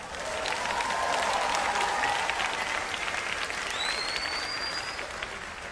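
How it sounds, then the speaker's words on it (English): Moderate studio audience applause on a televised singing competition show, steady clapping for several seconds with faint whistles rising over it. "Seems like a pity clap for Sharon and Nika."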